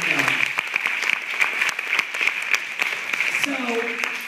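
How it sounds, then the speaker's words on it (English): An audience claps at an anti-bullying school event. A dense, steady patter of hand claps holds for the whole span at even loudness, with faint voices mixed in near the end. "I think we need to give her another round of applause"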